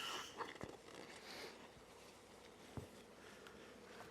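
Honey bees buzz around a hive being moved and restacked, a soft, steady insect hum at close range with a few faint taps and rustles, no talking.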